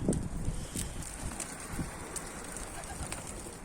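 A pigeon coos in low, soft bursts outdoors near a loft during a flight release, with light wind noise and faint bird calls over a steady outdoor background.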